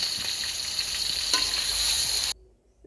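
Ground chili and onion paste, pounded in a clay bowl, fries with a steady broad sizzle in a pan while a ladle stirs it, then the sound cuts off abruptly near the end.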